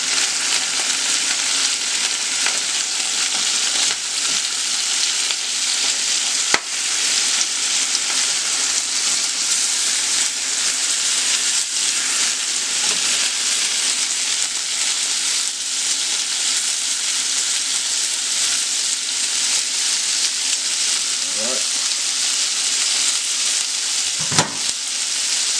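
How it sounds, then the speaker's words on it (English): Polish sausages sizzle steadily in a frying pan, a dense, constant crackling hiss throughout with occasional small pops and a brief clink near the end. "hear that sizzling?"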